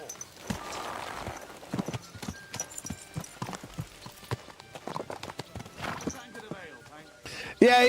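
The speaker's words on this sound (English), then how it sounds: "My horse is over here." Horse hooves clip-clop in a steady trotting rhythm in the medieval video game Kingdom Come Deliverance 2, loud and close, with a brief whinny near the end and game speech mixed in.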